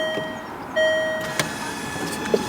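Small electric motors whir briefly inside the headlights of a Land Rover Freelander 2 as the beam adjustment runs, giving a short, fairly faint mechanical hum with a couple of soft clicks in a quiet car.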